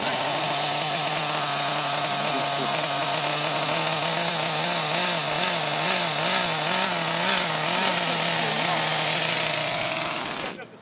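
A nitro RC car engine runs close and loud as a continuous high-pitched buzzing whine, its pitch wavering as the throttle varies, before cutting off at the end.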